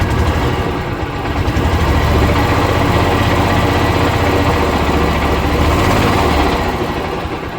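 Cub Cadet Carryall 500 utility vehicle engine running hard to drive its generator at maximum output, a loud, steady close drone with even vibration throughout, no talking.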